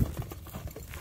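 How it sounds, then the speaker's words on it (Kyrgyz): Karabair horses from a village near Özgön, Kyrgyzstan, are heard galloping, with a quick run of soft hoof thuds close by over a faint low rumble and no talk. "бардык 4 атты тең силерге чабып көргөзүп берип атабыз"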